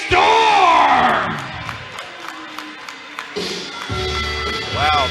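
A wrestling crowd boos the challenger Shane Storm as he is introduced at a main-event match: a loud, sustained roar of disapproving voices filling the arena, with one voice bellowing over the start.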